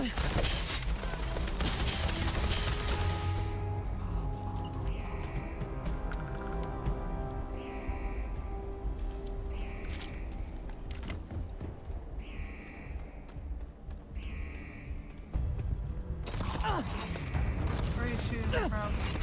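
Gunfire in the video game Starfield: bursts of shots crackle and boom through the stretch, with repeated sharp reports in the middle and a heavier volley near the end, mixed under speech.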